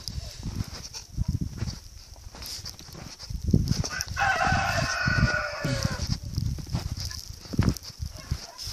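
Chickens clucking with a rooster crowing on a small farm, a drawn-out crow rising in the middle over scattered nearby clucks and farmyard noise, with other livestock around.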